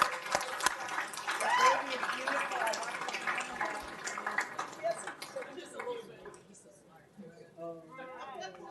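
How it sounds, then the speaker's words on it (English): A big round of applause from an audience at a school district board meeting honouring classified employees of the year, dense clapping that swells early and fades out, with voices talking over it. "All right, one more big round of applause for our classified employees of the year."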